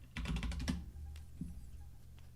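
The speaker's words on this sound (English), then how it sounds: "I can't type" A quick flurry of keystrokes on a computer keyboard, close and clear, followed by a couple of isolated taps before falling quiet.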